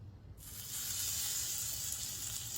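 Tuna searing in a hot pan gives a sudden, steady hiss and sizzle that starts abruptly and then holds loud and close, with no one talking.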